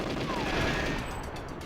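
Gunfire in GoldenEye 007: a dense, continuous burst of shots forms a loud, rough wash that stays steady for about a second and a half, with game sounds mixed in.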